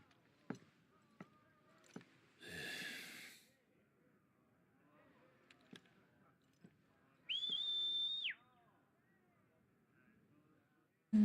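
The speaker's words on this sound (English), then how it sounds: "That sounds like Yuna's whistle again." In Final Fantasy 16, Yuna's whistle sounds as a single high, steady whistled tone of about a second, rising slightly at the onset, amid quiet game ambience with scattered footsteps and a short hissing burst earlier.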